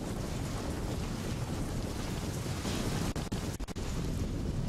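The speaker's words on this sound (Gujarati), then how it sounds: "જૂનાગઢના ગિરનાર પર્વત પર ભારે પવન ફૂંકાયો હતો" Strong wind blasts across Girnar mountain in Junagadh during heavy monsoon rain, a loud, steady roar buffeting the microphone throughout with a few brief dropouts near the end.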